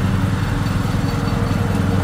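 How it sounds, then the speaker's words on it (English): A lawn mower engine runs steadily throughout, its low, pulsing drone loud and close with no break. "Mommy is mowing."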